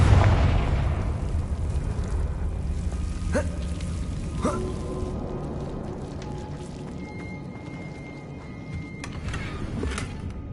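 A fiery Confringo spell explodes in the video game Hogwarts Legacy, with a heavy booming burst at the start that fades into a long rumble. Several sharper cracks and pops follow, each set apart from the next. No voices are heard.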